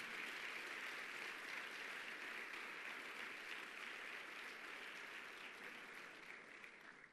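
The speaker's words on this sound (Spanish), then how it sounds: "¿Cuánto le da un aplauso a Dios, hermano?" Church congregation applauding during a celebration congress service, a steady dense wash of clapping that fills the hall, holding evenly before easing slightly toward the end.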